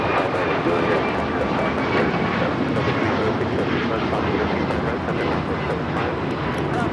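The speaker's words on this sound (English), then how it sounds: "This is United Airlines 2733 taking off the Houston Intercontinental on a MAX 9" A United Airlines Boeing 737 MAX 9 takes off at LAX, its engines a loud, steady broadband roar that holds for the whole stretch, with faint voices underneath.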